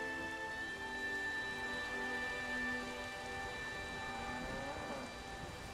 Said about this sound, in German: Jemand muss was gegen den Sturm machen.